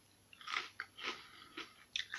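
Crunchy edible crickets, eaten plain without seasoning, bitten and chewed up close in a quiet room: a handful of short, crisp crunches spaced irregularly through the moment.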